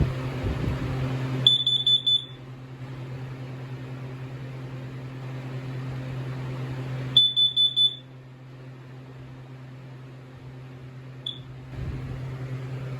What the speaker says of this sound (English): now let's first off with the Kidda carbon monoxide alarms